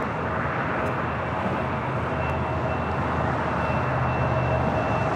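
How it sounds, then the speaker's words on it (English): An Airbus A330-300 airliner taxiing at LAX gives a steady, broad engine rumble with a faint whine, holding even and unbroken throughout with no voices. "A330-300 also starting taxi down to the 25s"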